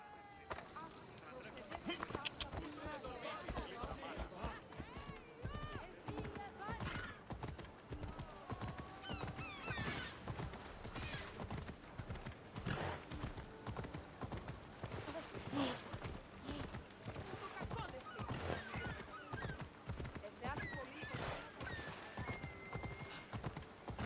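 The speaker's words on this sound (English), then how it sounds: "I wonder if we could put him on a horse." Rapid rhythmic hoofbeats of a galloping horse in the video game Assassin's Creed Odyssey run throughout, with occasional whinnies and voices talking over the steady clatter.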